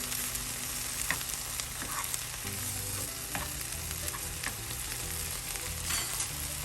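Butter sizzling in a frying pan, a steady close crackle with occasional stirring clicks and scrapes running throughout, no voices.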